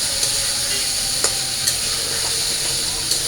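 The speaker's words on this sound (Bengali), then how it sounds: "তো আমি ভালো করে একটু মশলাটা কষিয়ে নিই" Spice paste sizzling and frying in a pan with occasional scraping stirs, a steady close hiss throughout.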